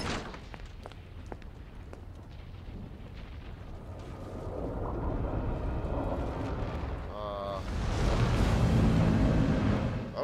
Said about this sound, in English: Explosions. Buildings falling.